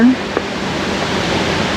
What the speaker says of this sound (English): a lot of water flow. There is another waterfall.